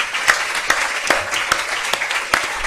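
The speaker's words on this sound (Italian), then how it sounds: "Facciamo un applauso intanto ai nostri ospiti." Audience applause for the guests at a talk, a continuous clatter of clapping with a few sharper, louder claps standing out at irregular intervals.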